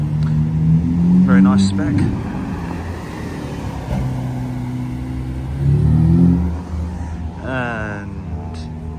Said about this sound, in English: The hypercars are starting to roll in.